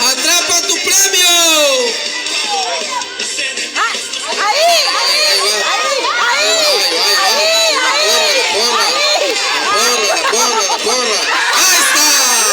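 A crowd of young people at a church campfire shout and cheer together, many voices overlapping in loud, dense, excited whoops and yells that continue throughout, close and energetic.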